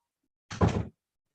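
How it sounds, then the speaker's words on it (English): A door is pushed shut indoors in a single solid close, a short thud-like burst lasting under half a second before silence returns. "Close the door."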